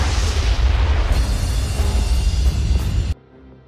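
A grenade explosion in a film hits as a loud, continuous roaring boom that fills about three seconds, then cuts off abruptly to near quiet.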